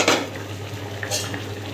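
A sweet dish simmers and boils in a covered pan, giving a steady bubbling, sizzling hiss with a low hum beneath it and no voices.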